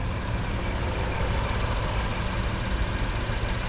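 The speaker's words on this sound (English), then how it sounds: "And that is running smooth as could be." The engine of a 2019 Honda Odyssey Elite front-wheel-drive minivan idles with a steady, even hum, close and constant from start to finish, no talking.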